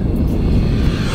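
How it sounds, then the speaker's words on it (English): An E-flite Conscendo Evolution 1.5m electric RC airplane makes a full-throttle pass, a loud, steady whirring motor and propeller roar with rushing wind, heard briefly and close. "Here's a nice full throttle pass."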